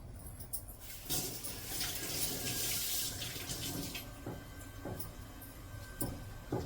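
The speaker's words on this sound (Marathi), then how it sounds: "हा रुमाल मी ओला करून घेते" Running water splashes steadily from a tap for several seconds as a cloth is wetted, with a few soft clinks and handling sounds near the end.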